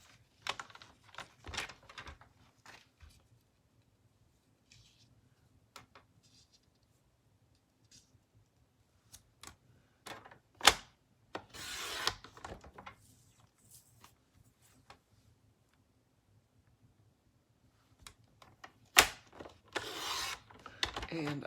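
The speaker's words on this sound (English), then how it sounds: "Let me cut this piece to size." A piece of card is cut to size for handmade alcohol ink cards, giving intermittent scraping and rasping strokes with a few short sharp bursts, fairly close and quiet, with no talking.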